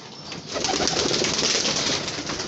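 Pigeons being let out of an enclosure fill the space with a close, continuous rush of wing flapping and fluttering, with some soft cooing mixed in.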